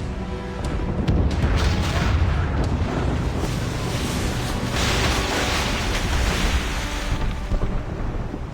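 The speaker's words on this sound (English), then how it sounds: "Man the cannons!" Heavy cannon fire from a naval battle in Assassin's Creed Rogue, a continuous rolling roar of booming blasts that stays loud and dense throughout with no voices.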